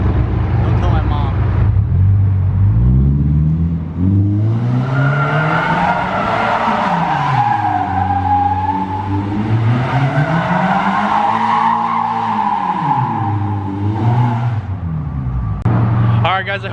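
Scion FR-S with an Invidia N1 catback exhaust spinning donuts, engine rising and falling in long sweeping revs with tire squeal, loud and continuous throughout.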